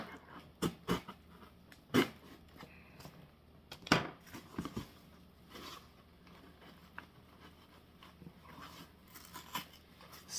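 Plastic tape and cardboard being cut open with sharp snips and crunchy rustles during an unboxing with packing peanuts, a few louder cuts scattered among quieter handling noise, close by, no talking.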